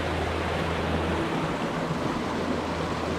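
A teeny tiny waterfall on an easy hiking trail at Mt Buangor in Victoria, Australia, pours as a close, steady rushing hiss of water with no voices over it.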